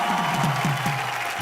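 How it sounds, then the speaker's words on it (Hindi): Studio audience on a Hindi TV entertainment show clapping after a live song performance, brisk clapping with some cheering mixed in and faint voices underneath. "जोरदार तालियां।"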